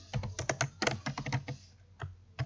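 Quick typing on a computer keyboard while writing HTML link text, a close run of crisp key clicks in uneven bursts with short pauses, no talk.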